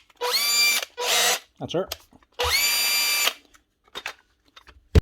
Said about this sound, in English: One Panasonic drill, up and running with a new set of Makita brushes.